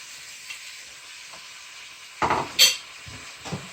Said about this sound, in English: I'll add my seasonings now, all of them at once.